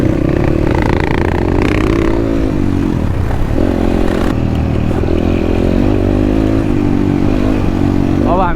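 Several motorcycles ride together along an off-road trail, their engines droning loud and continuous with shifting pitch, while wind rush and clattering fill the background.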